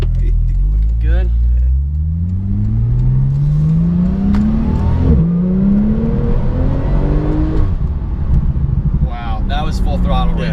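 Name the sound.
Porsche 911 Turbo S accelerating at full throttle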